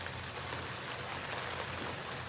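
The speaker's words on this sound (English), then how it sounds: "And you can, of course, hear that rain." Rain from Hurricane Idalia in the Big Bend of Florida, a steady, dense hiss of falling water that stays even and unbroken throughout, with no voices.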